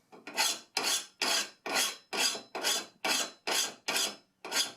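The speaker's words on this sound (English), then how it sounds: "this is just a sharpening stone, and I'm just gonna kind of smooth it over a little bit more" A sharpening stone rasps across a lawn mower blade in ten steady, even back-and-forth strokes, close and clear with no talking.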